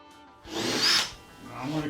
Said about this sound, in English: we're going to take a 1 1/4 inch hole saw because the plug on that is actually a little over 1 inch